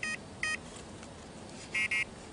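A radar detector alarm with its sound switched on gives four sharp electronic beeps, two spaced apart and then a closer pair, clear and near over a quiet background.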